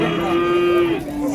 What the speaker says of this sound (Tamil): ஸோ அப்படியே வீட்டிலே இருக்கக்கூடிய மாடுங்க இதுங்கெல்லாம்.